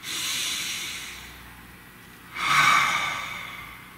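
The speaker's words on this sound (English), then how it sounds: "Nice deep breath, please." A slow, deep breath drawn in and let out, as a soft airy hiss that fades and then a louder exhale swelling near the end, heard close with no talk.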